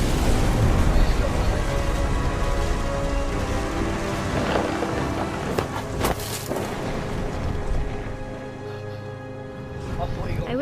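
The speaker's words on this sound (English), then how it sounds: "Rain came down." Steady rain pours down in the game What Remains of Edith Finch, a dense hiss that fills the scene throughout, with a voice talking over part of it.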